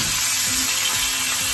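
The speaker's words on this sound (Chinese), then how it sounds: "煎鱼的时候不要翻动鱼啊，把鱼放进去之后是这样子，转动一下锅身" Fish sizzling hard in hot oil in a pan as the pan is swirled, a steady, loud, close frying hiss that fills the short stretch on its own.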